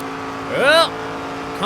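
Race car engine in NASCAR 25 at Kansas, a steady drone that swells into a quick rising whine as the car accelerates past, close and loud for under a second, then settles back, with a voice talking over it.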